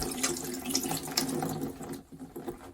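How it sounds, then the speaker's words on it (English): A water tap runs steadily to rinse soapy hands at a sink, a close, continuous splashing stream that eases and sputters toward the end. "Get some soap in your hand, and then turn it on again"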